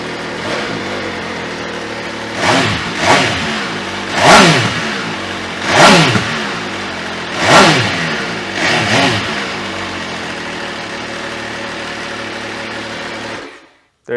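An MV Agusta Superveloce Ago three-cylinder motorcycle engine with California-legal exhaust idles, then revs sharply about five times in quick bursts before settling back to a steady idle and cutting off.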